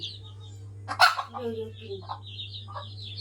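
Chickens, large hens and small ones, tied inside two baskets, give a few short clucks and squawks close by over a steady low hum, with one loud burst near the start.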